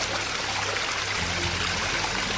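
Water spills steadily from a small screw-in control valve on a Universal Rocks setup, a close, continuous rushing flow with no talk.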